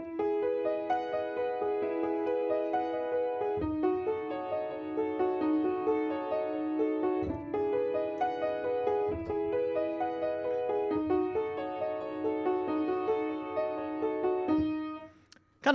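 Solo piano plays two alternating phrases from a song, each repeated twice, in steady, sustained chords and notes, close and clear with no talking, ending in a brief pause.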